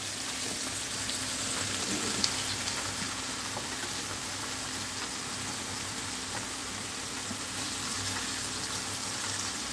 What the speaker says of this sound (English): That butter is all in there melting with it.